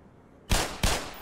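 An enemy turret in the video game Black Mesa fires two sharp, loud back-to-back bursts, each cracking in suddenly after a near-silent start and fading quickly.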